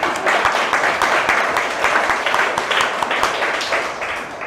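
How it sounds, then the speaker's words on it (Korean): A church congregation breaks into dense, loud applause during a sermon, a continuous wash of many hands clapping that holds strong throughout and eases slightly at the end. "한 번 더 박수"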